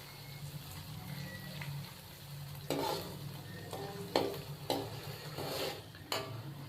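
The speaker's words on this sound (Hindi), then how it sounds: "अदरक और लहसुन के पेस्ट को हम 1 मिनट के लिए फ्राई कर लेंगे" Ginger garlic paste frying in a pan for an aloo pulao, with a steady soft sizzle and several stirring scrapes of a utensil against the pan.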